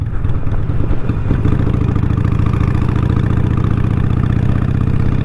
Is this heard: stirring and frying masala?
no